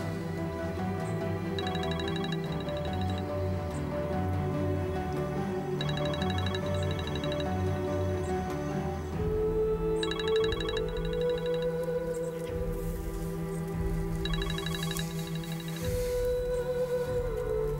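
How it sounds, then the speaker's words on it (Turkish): A phone rings in repeating electronic trills, four bursts evenly spaced over a continuous backdrop of music. "Ben şimdi bu telefonu açıp sana ne diyeceğim Reyhan?"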